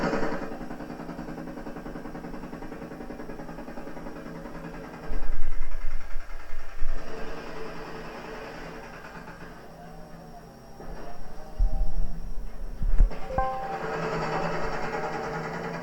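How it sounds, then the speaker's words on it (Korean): Low, rumbling construction site noise plays during a headphone noise-cancelling test, a steady droning bed of machinery with heavier thumping bursts partway through and again near the end. "그 공사장 소음 같은 게 되게 저음이잖아요"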